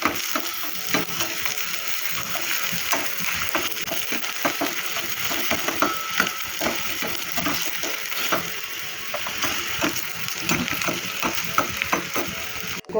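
Stingray curry ingredients fry in a pan toward golden brown, a steady close sizzle broken by frequent spoon scrapes and clinks against the metal, with no voice over it.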